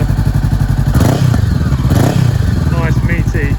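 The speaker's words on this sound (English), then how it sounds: "nice meaty throaty exhaust there" Honda CBR500R with a Termignoni exhaust, loud and close: a steady idle throb broken by two quick throttle blips that swell into deeper revving bursts.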